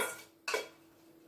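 Browned beef for an Irish stew is scraped from a pot into a casserole dish: three short, sharp metallic scrapes and clinks, close by and separated by quiet gaps.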